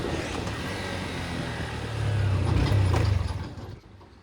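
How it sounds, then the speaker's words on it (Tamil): A 2025 Honda Hornet 2.0 motorcycle gearbox clicks through a shift with a brief mechanical clunk over a low, close engine rumble that swells and then fades. "கியர் பாக்ஸோட ஷிஃப்ட்டு ஸ்மூத்தாக இருக்குது."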